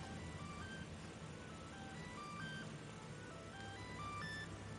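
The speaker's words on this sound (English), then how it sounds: "there's like a truck going down the road" A truck passing along a road beside a Minecraft-style survival world, a steady low rumble under a looping ice-cream-van jingle of bright repeating beeps, continuous and moderately loud.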